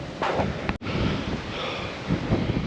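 Strong gusts buffet the microphone with a loud, rumbling roar that barely lets up, outdoors and exposed on a hilltop at Châteauneuf-du-Pape, France.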